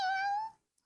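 A person imitating a cat's meow with mouth shut, a single short nasal wailing meow that falls away quickly, close and clear with no talk.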